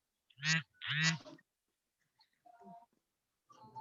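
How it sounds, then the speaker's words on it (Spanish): Quacking from a duck close by comes in two loud, harsh bursts, then fainter calls follow after a pause. "¿Qué tienen un pato por ahí?"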